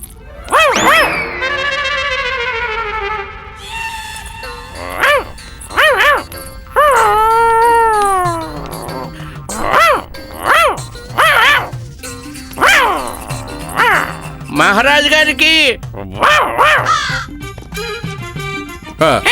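A dog barks and yelps over and over in uneven bursts, mixed with high, wavering cries, loud and near throughout.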